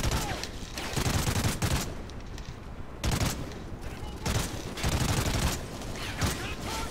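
Rapid bursts of SC-2000 rifle fire in Call of Duty: Ghosts, loud repeated volleys with short pauses between them and faint talk underneath.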